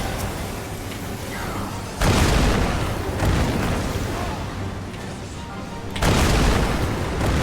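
Small bombs exploding in Final Fantasy XIV, two loud, close booms standing out above a steady, rumbling battle din, with a softer blast between them.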